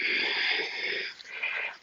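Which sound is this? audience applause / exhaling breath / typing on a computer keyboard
exhaling breath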